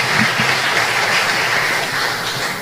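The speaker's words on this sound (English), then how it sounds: "Another round of applause for Dr." An audience applauds at an awards ceremony honoring Belizean patriots, a dense, loud wash of clapping that holds steady, with no one speaking.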